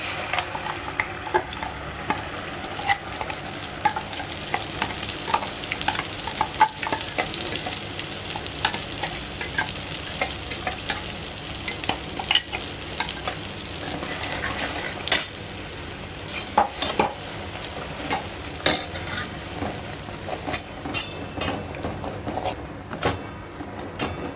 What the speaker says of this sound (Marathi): आता आपण याच तेलामध्ये ग्रेव्ही परतून घेऊया